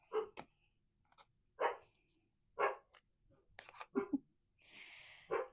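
A pet dog barks indoors in a series of sharp, separated yips and woofs, roughly one every second, fairly quiet with near silence between barks and a brief huff at the end.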